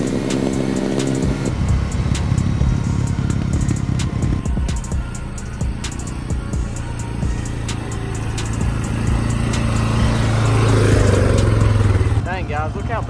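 Four-wheeler ATV engines drone steadily as riders head out on an overgrown trail, the motors building louder near the end before cutting off abruptly.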